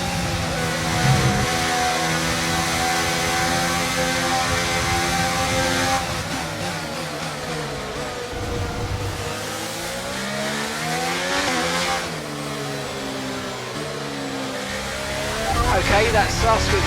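Race cars on the last lap in Braking Point 2, engines revving hard and shifting up and down through gears, close and continuous, with a faint voice underneath.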